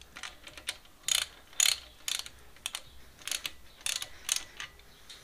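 Ratchet snugging up bolts on a Jeep 4.2 liter 258 CID engine block: repeated short bursts of crisp ratchet clicking, close and fairly loud, separated by brief pauses, with no talking.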